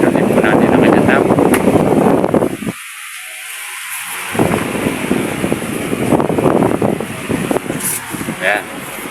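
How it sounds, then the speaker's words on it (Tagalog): A large Astron electric stand fan with a newly replaced bushing and shaft runs and oscillates, its loud, steady airflow roar briefly dropping out. Someone talks over the blowing. "Nagsuswing na po siya. Malakas po ang dating niya, ang hangin niya."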